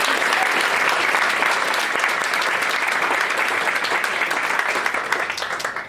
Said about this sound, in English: So if we can please give all of our sponsors a big round of applause.